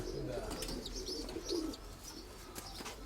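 Pigeons kept for show and flight coo softly in a loft, low burbling calls with a few faint chirps over steady background noise.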